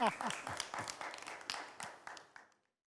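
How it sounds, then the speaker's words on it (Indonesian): Sparse audience applause in a studio after a talk show segment, a handful of distinct claps and laughter that thin out and fade to silence within a few seconds. "Tepuk tangan dong."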